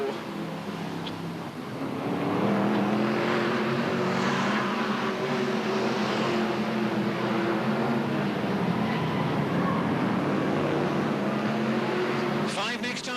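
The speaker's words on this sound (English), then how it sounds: "and there's Beresford going through as Harrison and Smith go side by side down the back straight, in and around turns 3 and 4 into the home straight" BriSCA F1 stock cars race around an oval track at Northampton, a loud continuous engine roar that swells as the pack sweeps through the turns, with a commentator talking over the noise.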